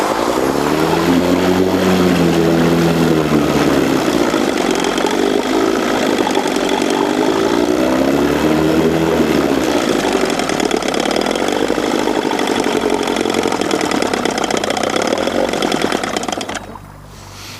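A 1965 Evinrude 3hp outboard motor with a carburetor in need of cleaning runs steadily, a loud buzzing two-stroke drone with slight rises and dips in pitch, then drops off abruptly near the end.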